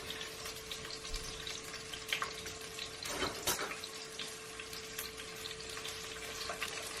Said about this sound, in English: I'm going to go ahead and add these now that my oil is hot to the pan